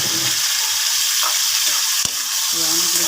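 Chicken gizzards sautéing in a pan with onion and garlic, a loud, continuous hiss of hot frying with a single sharp knock near the middle.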